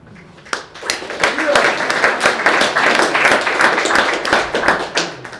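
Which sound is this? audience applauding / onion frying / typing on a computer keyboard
audience applauding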